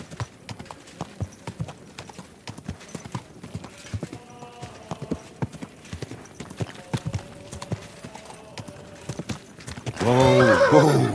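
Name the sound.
horse trotting and neighing, from video game Kingdom Come: Deliverance 2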